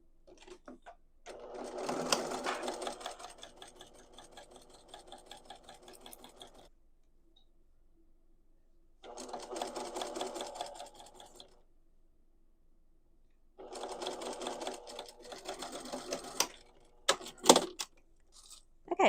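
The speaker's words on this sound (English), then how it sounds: "let's sew this at 1/4 of an inch seam allowance." Sewing machine stitching a quarter-inch seam on skirt fabric, three separate bursts of rapid mechanical whirring and clatter with quiet pauses between, close and moderately loud, ending with a few sharp clicks, no talking.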